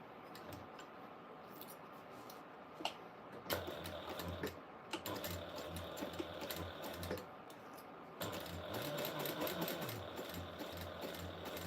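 A sewing machine stitching a quarter-inch seam for a Valentine's quilt project, running in close, steady mechanical bursts with short pauses between runs and no talk.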